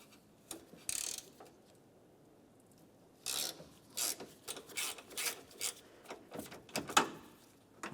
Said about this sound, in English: We'll put this right in place and turn these counterclockwise to remove them.